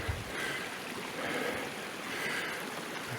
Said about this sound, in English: The water comes out of the ground right up here